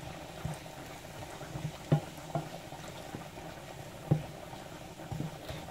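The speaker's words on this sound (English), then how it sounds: "I'm just gonna fry the onions with it." Onions frying in hot oil in a pot for cocoyam porridge give a soft, steady bubbling sizzle with scattered small pops and crackles, faint and close, with no talking.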